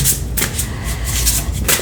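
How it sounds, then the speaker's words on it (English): A thick tarot card deck is shuffled by hand in a quiet room, with repeated crisp riffling bursts and soft slides of the cards coming in an uneven rhythm. "I'm trying to make sure I shuffle good."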